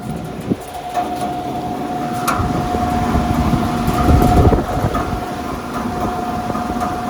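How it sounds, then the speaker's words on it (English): A rooftop AC condensing unit fan drones steadily with a constant tonal hum while the compressor is not running, with a few faint clanks and a brief louder swell midway. "Fan sounds funny. Compressor's not running"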